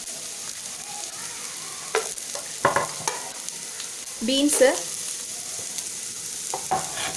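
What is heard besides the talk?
sautéing cabbage, carrot and beans for veg fried rice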